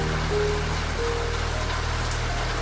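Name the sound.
rain on a train window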